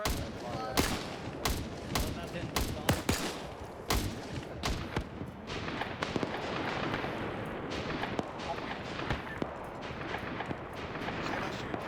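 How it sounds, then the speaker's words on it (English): Heavy gunfire during a military operation in a Rhodesia campaign game, with sharp close shots at first, then a dense continuous rattle of many weapons firing together, loud and steady. "Alright, open fire."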